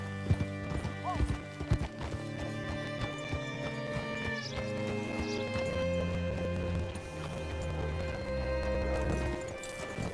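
Horse hooves clip-clop steadily in Red Dead Redemption 2 over a busy background of music and ambience, with a horse whinnying near the start; the game soundtrack continues throughout.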